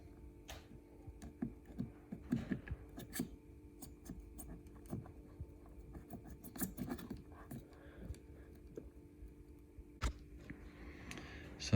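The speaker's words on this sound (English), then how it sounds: "So I've just run the knife down there and I've split that foam." Utility knife slicing through double-sided foam tape holding a mirror on a Sea-Doo watercraft, heard as soft scratchy cutting strokes close by over a steady low hum, with occasional faint clicks.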